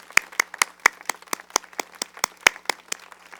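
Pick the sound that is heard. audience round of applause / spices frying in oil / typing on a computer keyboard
audience round of applause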